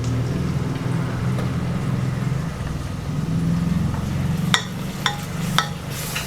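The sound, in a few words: ginger garlic paste sautéing in a pan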